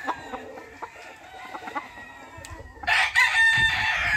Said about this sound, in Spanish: Aquí tenemos este otro gallino negro golilla amarilla